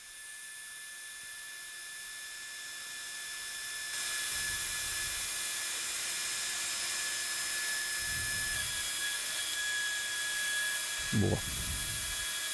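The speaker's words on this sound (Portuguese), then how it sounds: "uma furadeira já preparada com uma broca flexível" A surgical drill fitted with a flexible bit whines steadily during total hip arthroplasty, its high tone rising in pitch partway through, with low knocks and a brief spoken word underneath.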